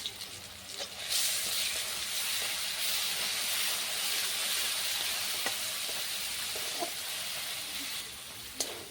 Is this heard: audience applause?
no